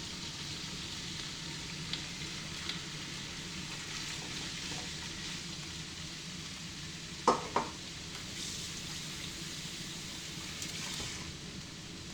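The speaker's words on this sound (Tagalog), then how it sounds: "Prito ko na yung ating baboy." Pork belly frying in a pan as prep for a home-style humba, giving a steady, close sizzle throughout with a few sharp clinks of a utensil against the pan midway.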